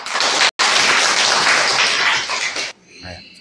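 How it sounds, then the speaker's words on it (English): Primary school pupils in Agago district, Uganda, break into loud, dense group applause that carries on for nearly three seconds after a brief gap, then cuts off abruptly. "We clap."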